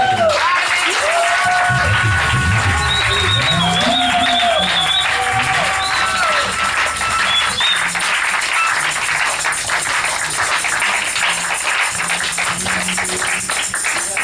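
A church congregation claps and cries out in acclamation during worship, a steady wash of applause mixed with raised voices and tonal singing or music running throughout, loud and continuous.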